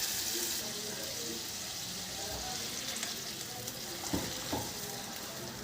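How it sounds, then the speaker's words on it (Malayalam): Water goes into a pan of rasam cooking with tamarind, ginger, chilli and pepper, with a steady hiss of sizzling and stirring throughout and a couple of brief clinks near the end. "പുളി ചേർത്ത് ഇതിൽ വെള്ളം ചേർക്കട്ടെ ഞാൻ കേട്ടോ."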